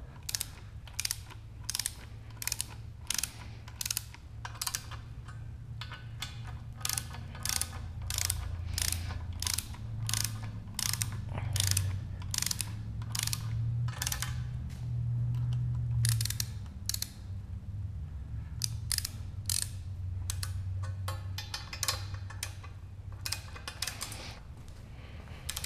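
A ratchet clicks in rapid, regular bursts as bolts are evenly snugged down on a Porsche 944 LS engine swap. Close and crisp, with a low hum beneath and no talking.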